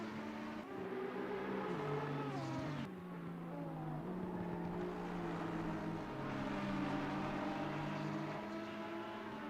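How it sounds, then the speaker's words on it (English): A V12 race car engine in the Assetto Corsa Competizione racing game drones through gear changes, its pitch climbing, dropping sharply at a shift, then rising again at a steady distance. "Here comes Nath in the V12. The sound of his engine must be pressing into Normac's now"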